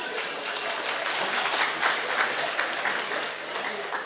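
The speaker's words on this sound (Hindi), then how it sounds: "ताली बजाइए आप लोग" Audience applause at a Hindi kavi sammelan poetry recital on stage in Rath, Hamirpur: a sustained, steady round of clapping from a crowd, fairly close and even throughout, with no one speaking over it.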